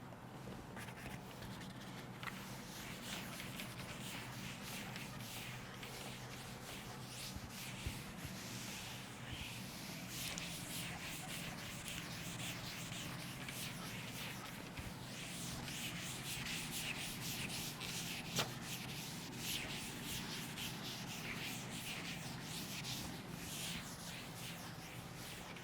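Steady rubbing and scraping of an eraser or duster wiping out writing on a board during a chemistry class, a continuous scrubbing texture lasting throughout at moderate level with no talk over it.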